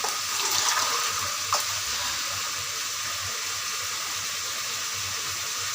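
Water is poured from a tap or vessel into a pan of vegetable curry as it cooks, a steady, continuous splashing hiss that is fairly close and stays even throughout.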